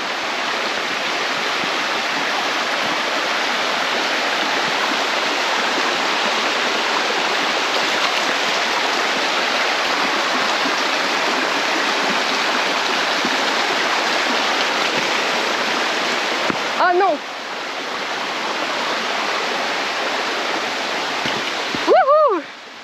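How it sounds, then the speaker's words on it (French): Small waterfall and stream in the Jura mountains, a steady broadband rush of flowing water that stays loud and constant throughout, with a couple of brief voice-like sounds near the end. "je peux être dans l'eau, tranquille, dans ma petite cascade"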